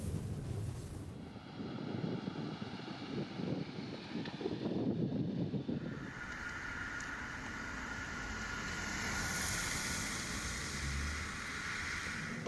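Interior ride noise of a Volkswagen Passat B8 with a 1.8 liter TSI engine: a steady, broad cabin roar of road and wind noise that continues unbroken, with no talking.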